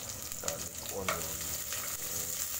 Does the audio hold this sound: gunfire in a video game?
no